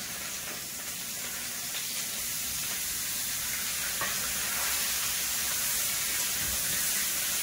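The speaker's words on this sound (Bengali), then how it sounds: "কড়াইতে তো তেল আছে, আলু ভাজা তেল, ওই তেলেই ফুলকপি ভেজে নেব।" Cauliflower frying in leftover potato-frying oil in a wok over lowered gas heat, giving a steady, close hiss and sizzle that holds evenly throughout with no talk.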